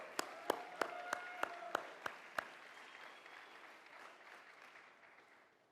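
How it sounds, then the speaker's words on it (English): Audience applause for Dr. Hardy at a campus mock presidential election speech, opening with several sharp, evenly spaced claps in front, then a softer wash of crowd clapping that slowly fades. "Let's give him a round of applause."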